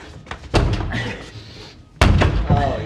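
A bathroom door struck hard twice, each a loud, sharp slamming thud with a rattling ring, about one and a half seconds apart, with people talking and reacting around the blows.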